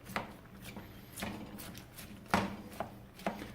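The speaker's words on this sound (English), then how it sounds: "I'm just carefully jabbing at it here so I can break some of these peppers I diced" A utensil jabs at diced peppers in a pan over medium heat, making a few sharp, irregular taps and scrapes against the pan bottom. The sound is quiet and close, with soft background hiss between the strikes.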